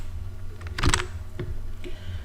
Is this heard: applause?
no